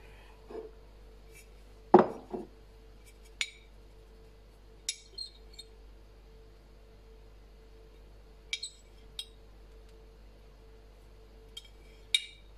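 Aloe vera gel spooned into a bowl while making a men's face moisturizer: a few soft, brief clinks and taps of a spoon against the bowl, spaced apart in a quiet room.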